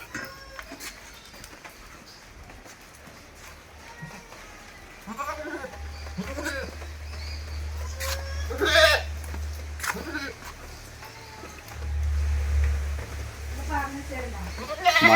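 A dairy goat with good milk and her kids bleat in short calls scattered through steady talk, with light rain pattering at a farm and other livestock nearby.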